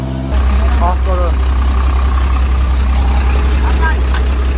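A Beiben heavy truck's engine idles with a steady, loud low rumble on a rough dirt road in Guinea-Bissau, continuing throughout while people talk over it.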